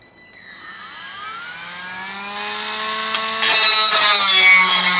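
A deburring tool cuts into a metal steering hub, giving a rising metallic whine that builds in loudness and brightness over several seconds, close and steady.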